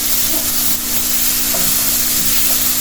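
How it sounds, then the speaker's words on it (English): Thinly sliced onions fry and sizzle in a wok, a steady loud hiss running unbroken throughout with faint stirring scrapes beneath. "Here I am adding thinly sliced onions."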